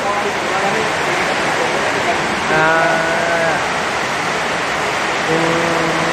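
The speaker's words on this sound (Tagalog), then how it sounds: "Lakas ng ulan." Heavy rain pours outside a house during a Christmas party, a steady dense hiss throughout, with voices talking over the downpour.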